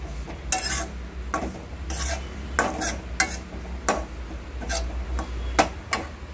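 Dry coconut roasting in a pan for karanji filling, stirred with repeated dry scraping and rasping strokes at an irregular rhythm, close and moderately loud over a low steady hum.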